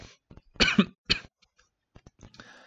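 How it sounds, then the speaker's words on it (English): Two harsh coughs in quick succession, close and loud, followed by quieter throat sounds and a brief murmur. "Thanks, cough. You picked a really good time."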